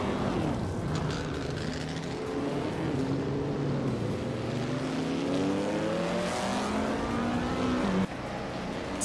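A 1958 Maserati 250F racing engine in a video game, a continuous loud roar whose pitch climbs steadily through the gears before a sharp drop near the end, with no voices.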